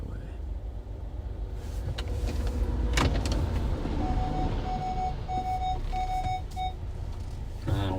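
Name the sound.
car beeping warning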